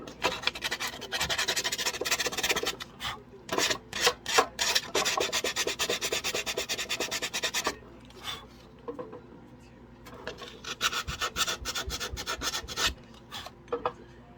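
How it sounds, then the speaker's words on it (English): Hand sanding a sandstone statue under restoration, a dense gritty rasp in long continuous strokes, loud and close, easing into shorter intermittent scrapes in the second half. "Not too difficult to sand when it's sandstone, Just kind of comes right off."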